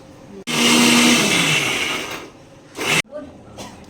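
A mixer grinder whirs loudly, grinding green chili, coriander, garlic and ginger, running in one long burst then a short second pulse, with a voice speaking softly afterward.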